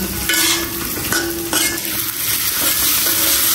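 Potatoes are stir-fried in a pan, crackling in a continuous sizzle while a spatula scrapes and knocks against the metal in uneven strokes, close and loud.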